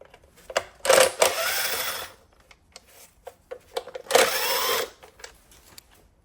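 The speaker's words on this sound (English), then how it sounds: "So with a T30 Torx, I'm going to remove these two." A T30 Torx driver spins out rocker cover bolts on a Mini Cooper R56 engine, giving two loud whirring bursts with small clicks and handling taps between them and no talking.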